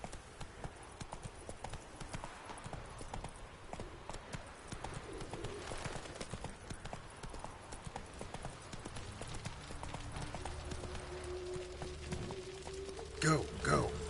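Steady hooves of the horse Roach clip-clop at a run in The Witcher 3: Wild Hunt, a constant close rhythm under game ambience with bird calls and a soft tonal hum near the end.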